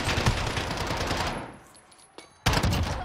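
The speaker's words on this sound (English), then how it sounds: "Why's this gun shoot like that" Rapid automatic gunfire from a weapon in Call of Duty: Warzone, a loud dense burst that fades out, then a short pause and a sharp fresh burst.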